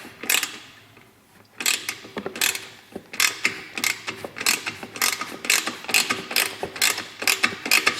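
A ratchet backs out a stock fastener on a 2015 Suzuki GSX-R600 in a run of close, crisp clicking bursts, pausing briefly early on before the rapid ratcheting strokes resume.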